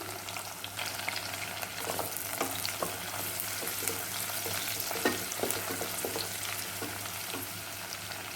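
Onions and green chillies sizzle in hot oil with biryani masala for a prawn pulao. A steady, dense crackle runs throughout with faint stirring scrapes and no speech.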